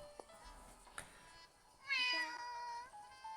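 A cat gives a drawn-out, rising meow, loud and close, after a couple of soft clicks and rustles.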